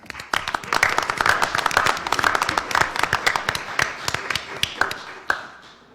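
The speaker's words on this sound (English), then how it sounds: "So can we give them a round of applause?" Audience at a school board meeting giving a round of applause, dense scattered clapping for several seconds that fades out, fairly close, with a few louder individual claps near the end.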